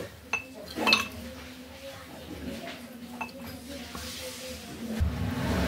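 Kanji vada ingredients are mixed with mint leaves in a bowl: a spoon clinks against the dish several times at uneven intervals, close and moderately loud, over a soft background rustle.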